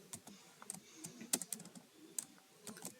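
Irregular clicks and taps of a computer keyboard as a file name is typed for a Java program, close and fairly quiet, with short bursts and brief pauses and no talking.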